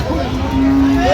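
A single low, drawn-out moo from a cow nearby at a cattle market, with murmured voices and crowd noise in the background.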